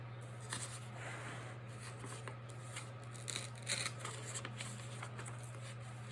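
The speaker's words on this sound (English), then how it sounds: "you need to tear out I tear out about 8 pages" Pages being torn out of an old book for an altered book art project, a series of dry ripping and rustling paper sounds close up, with soft crinkles in between over a steady low hum.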